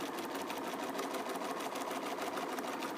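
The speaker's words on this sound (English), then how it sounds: "you need to back stitch one more time to secure that" A sewing machine back stitches the end of a seam on a fabric neck cooler, running fast and continuously with a rapid, even needle rhythm, close by and alone.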